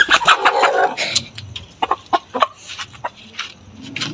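Aseel chickens cluck and squawk close by in short, irregular bursts, some louder calls mixed with softer murmuring clucks.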